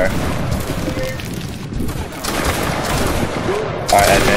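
Line infantry in a Napoleonic line-battle game, Saxon fusiliers, loose a musket volley: a dense rolling crackle of many shots blending into one sustained roar, loud and close, with a sharper burst near the end and no clear talk.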